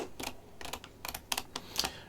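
Keys on a computer keyboard are tapped in quick irregular clusters while setting editing shortcuts, close and crisp with no talking.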